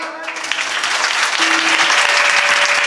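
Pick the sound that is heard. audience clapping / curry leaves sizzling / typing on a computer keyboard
audience clapping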